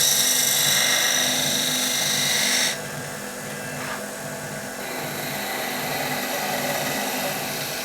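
A skew chisel cuts a wooden honey dipper spinning on a lathe, a loud continuous whirring hiss with a tonal motor hum that drops in brightness as the cut eases off, then carries on steadily.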